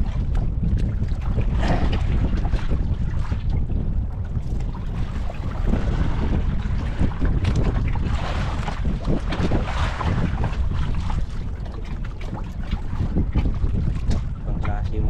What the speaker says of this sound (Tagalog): Daming bangka yun no.